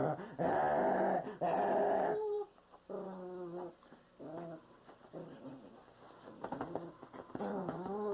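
A puppy growls in long rumbling bursts, then breaks into higher whimpers and yips, close and fairly loud, with a brief pause between the sounds.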